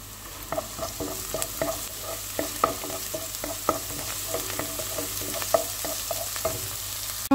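Garlic and ginger sizzle in hot oil for a corn soup, a steady frying hiss broken by repeated sharp clinks of a utensil stirring the pan.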